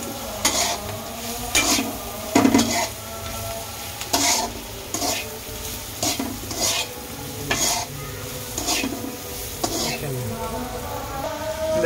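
Spice paste and potatoes fry in a pan with a constant sizzle, broken by regular scraping strokes of a spatula stirring roughly every second, close and fairly loud.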